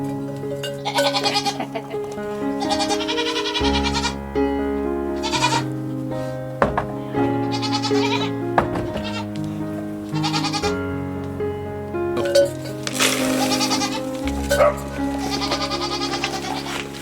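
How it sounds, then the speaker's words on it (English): Young goats bleat repeatedly inside a homestead barn on a winter day at feeding time, their loud, wavering calls overlapping and coming close to one another. "Alright, so I'm in here with the little goats"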